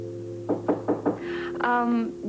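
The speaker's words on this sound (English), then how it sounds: "The door, someone's knocking at the door." Four quick, firm knocks sound on a door in a 1982 television soap opera, with a soft tonal music bed beneath and a brief sustained chord after.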